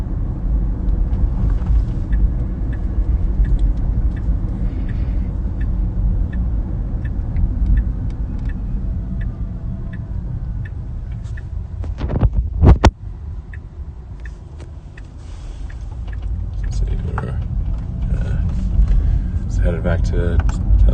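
Tesla car cruising on Full Self-Driving through Palo Alto streets, a steady low road rumble and cabin hum with a brief sharp knock midway, under conversation inside the car.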